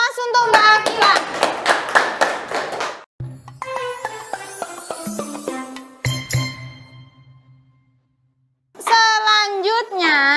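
Classroom applause for a student presenter during a lesson: several seconds of dense, mixed clapping up front, then a gap and further bursts with children's voices and chatter around it.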